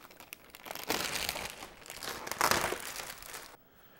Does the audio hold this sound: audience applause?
no